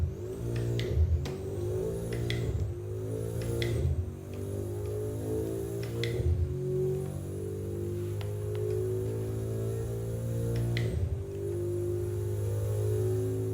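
A racing simulator car engine drones steadily around the Nordschleife, holding high revs with sharp drops and climbs at each gear change, loud and continuous with no voices.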